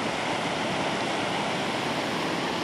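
Floodwater pours over Oxenford Weir in a continuous, loud, broadband rushing roar, steady and unbroken throughout.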